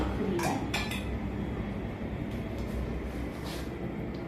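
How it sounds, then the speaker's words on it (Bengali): A lid lifted off a cooking pot, with a few quick metallic clinks near the start, then a steady rumbling background with faint, brief knocks. "এবার আমি ঢাকনাটা খুলবো"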